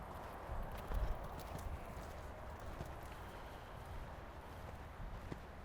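Horse hooves on an arena surface during show jumping practice, a soft, steady clip-clop of a ridden horse, fairly close and continuous, with faint wind and no talk.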